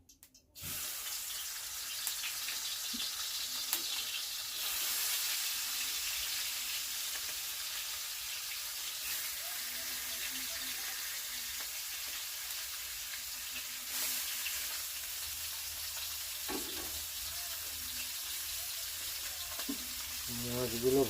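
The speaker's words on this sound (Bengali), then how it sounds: "তেল পুরো গরম হয়েছে মাছগুলো দিয়ে দেবো" Fish fry in fully heated oil in a wok, giving a steady, continuous sizzling hiss that lasts throughout at an even level, with faint kitchen clinks underneath.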